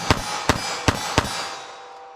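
Four sharp .380 ACP Winchester Silvertip shots ring off a steel target at 12 yards, evenly spaced in quick succession, each a loud crack with a bright metallic ring that lingers and fades after the last shot.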